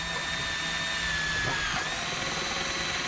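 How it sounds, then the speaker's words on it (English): A power drill bores a hole through a DIY plant marker, a steady whirring drone with a rising whine as the bit cuts through, fairly faint and continuous for a few seconds. "So we're gonna go ahead and drill a hole in these two."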